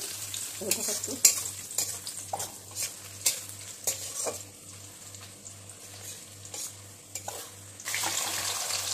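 Dried red chillies dropped into fried onions in hot oil for country-chicken biryani, a close, steady sizzle with repeated spoon stirring and pan scrapes, briefly louder near the end.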